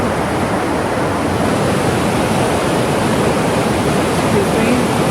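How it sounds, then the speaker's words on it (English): A deep, fast mountain river near South Lake Tahoe rushes close by in a dense, unbroken roar of churning water, loud and constant throughout. "deep, fast, very fast river"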